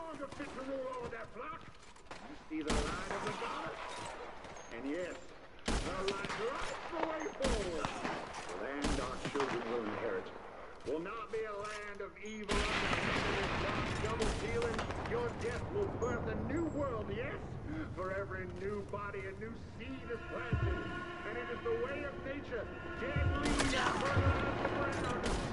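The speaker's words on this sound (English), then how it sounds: "we're in the middle of a firefight" A Red Dead Online firefight crackles with repeated gunshots, sharp bursts spaced irregularly among game sounds and other noise, some shots close and loud, others more distant.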